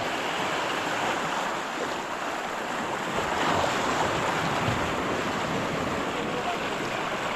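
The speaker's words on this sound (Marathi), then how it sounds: "लाटा येतात पायाखालीपर्यंत" Surf rushes and washes in a steady broad roar on the Konkan coast of India, close by, with gusts of wind over it and no talking.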